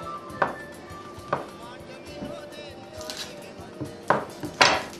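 A knife knocks on a board as a granny finely chops a brown onion, giving sparse, irregular taps and clacks spread through a faint kitchen background.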